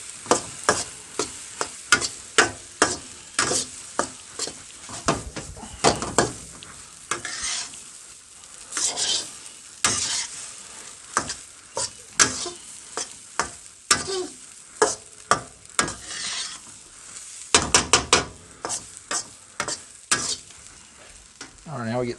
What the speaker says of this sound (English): now we get the heat right up and fry this rice off